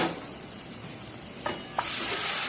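Kashmiri chilli powder frying in mustard oil for a tempering, a soft steady sizzle with two brief clinks of a spoon in the pan, the hiss growing a little louder at the end.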